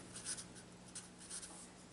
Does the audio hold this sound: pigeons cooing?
no